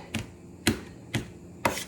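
A knife chops garlic finely on a cutting board, four separate sharp chops about half a second apart, close and moderately loud, with no talking.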